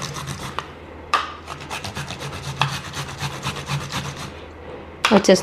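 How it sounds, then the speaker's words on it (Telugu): An ingredient for a homemade glowing-skin face pack is grated by hand on a grater, with steady close rasping strokes in an even back-and-forth rhythm and no talking. "2 టేబుల్ స్పూన్ తీసుకోవాలంటే మనం ఈ విధంగా గ్రేట్ చేసుకుందాం"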